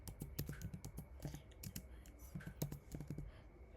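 Computer keyboard keys clicking in quick, uneven bursts as code is typed, close and fairly faint, with no voice over the clatter.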